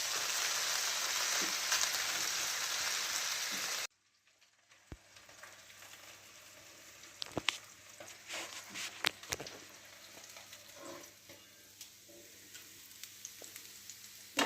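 Anchovies fry in hot oil in a pan, a steady crackling sizzle that suddenly drops away, followed by quieter scattered pops, clicks and light kitchen clatter, close by with no talk.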